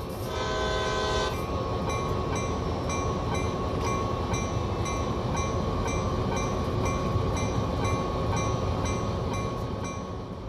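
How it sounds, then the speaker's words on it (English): Heavy CSX freight locomotive in Train Sim World creeping onto a turntable, a steady loud rumble and drone with a brief horn-like tone at the start, then even mechanical noise, no talking. "As you drive onto the turntable, take it very slowly so you don't overshoot."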